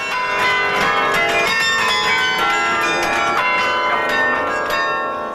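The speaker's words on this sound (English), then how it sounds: "There are 42 bells inside the tower, played in that old-fashioned way with mechanical keys and pulleys." A carillon of 42 bells rings from a tower in central Amsterdam, played by mechanical keys and pulleys. Dense, overlapping metallic tones chime steadily and loudly throughout, with no talking.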